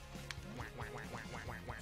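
Cartoonish duck quacks from the video game Duck Game, a rapid run of about six evenly spaced quacks over a quiet game background.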